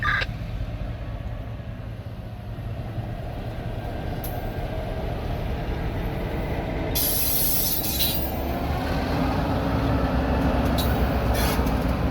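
A W&LE freight train rolls slowly onto a connector track in Medina, Ohio, its wheels squealing in sharp high bursts over a steady low rumble of railcars, near and loud.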